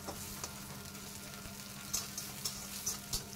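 Potato, carrot, beans and capsicum sizzling in a pan with a little salt: a close, continuous crackling fry with a few sharp clicks and scrapes from stirring toward the end, and no talking.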